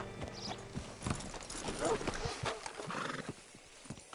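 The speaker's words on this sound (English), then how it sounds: "Hitch your horse up here." In Red Dead Redemption 2, a horse close by neighs and snorts while its hooves clip-clop on the ground, mixed under someone speaking.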